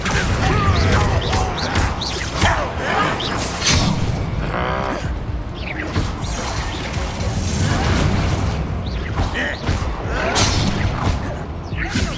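Confringo and Bombarda spell blasts in Hogwarts Legacy, a dense run of crashing booms and cracking bursts one after another, heavy and close, with shouted game voices mixed in.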